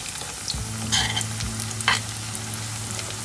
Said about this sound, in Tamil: இப்போ நம்ம கட்லட்டை திருப்பி போடலாம்.